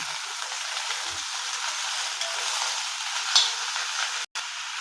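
Chopped cabbage is added to a pan already holding turmeric and tomato and fries there. It gives a steady, moderately loud hiss and sizzle with a few faint ticks and a brief cutout near the end.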